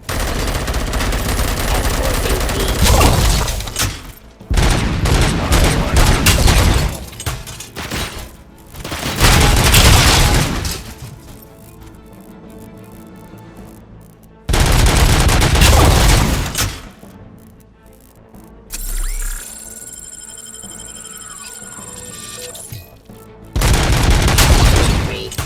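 Bursts of gunfire and heavy booms from a sniper encounter in the video game Robocop Rogue City come in loud, separated volleys with quieter gaps between them.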